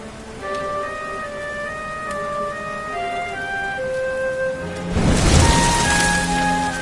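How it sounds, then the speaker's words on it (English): Rain falls in the video game Dragon Quest XI, a soft steady patter under sustained musical tones, with the rain swelling louder and fuller in the last couple of seconds. "Looks like the rain's dying down."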